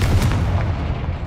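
In the Hogwarts Legacy video game, a Confringo explosive spell fires with a loud, punchy burst followed by a quick second crack, then a rolling boom that fades out over a second.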